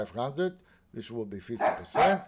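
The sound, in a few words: dog barking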